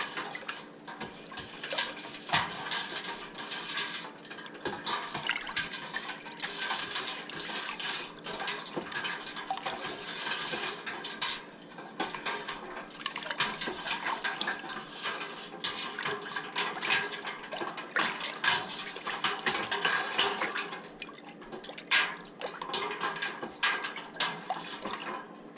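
Apple pie moonshine mixture with brown sugar gets stirred in a pot, a close, continuous watery swishing and sloshing with irregular louder surges and no talking.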